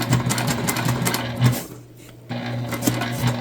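A sewing machine top stitches a tote bag in loud, close bursts of rapid needle clatter, with a brief pause in the middle before the stitching resumes.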